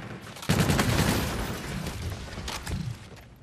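Multiplayer gunfire in the video game Call of Duty: Infinite Warfare, a rapid burst of shots that kicks in loudly after a brief moment and rattles on with a second flurry near the end, dense and close.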